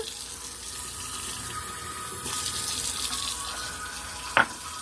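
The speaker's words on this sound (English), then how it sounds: "We're going to add just a little bit of water." Water runs from a tap into a pot already holding honey barbecue sauce, a steady splashing pour lasting a few seconds, ending with a short, sharp clink.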